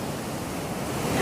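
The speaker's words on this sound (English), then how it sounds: "We even have a waterfall." A waterfall close to a new home in Leiria, Portugal, gives a steady, loud roaring rush of water with no breaks, swelling slightly toward the end, and no voices over it.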